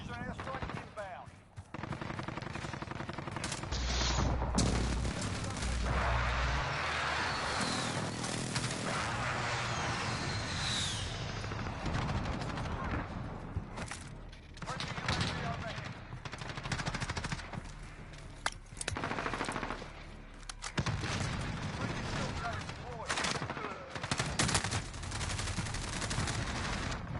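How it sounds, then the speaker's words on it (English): Precision airstrike in the Modern Warfare video game, heard as dense, loud bursts of gunfire and explosive blasts running steadily throughout, with booming impacts and a distant radio voice. "Friendly precision airstrike inbound."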